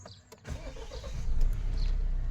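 A Mahindra Thar Roxx 5-door AX7L manual SUV engine cranks and catches close by, settling into a steady low idle rumble after a brief starter whir.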